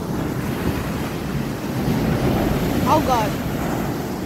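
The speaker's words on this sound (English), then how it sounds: "I'm literally in the ocean." Ocean surf washes and breaks around a swimmer standing in the sea off the coast of Portugal. It is a steady, rushing roar heavily buffeted by wind on the microphone, and a voice briefly exclaims.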